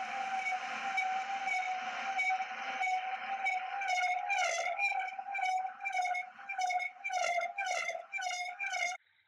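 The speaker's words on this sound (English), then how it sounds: "Here is a video showing combustion instability occurring in this lab-scale combustor." A lab-scale annular combustor burning liquid fuel roars with a strong, whistle-like tonal hum during combustion instability, then breaks into rapid rhythmic pulsing bursts before cutting off abruptly.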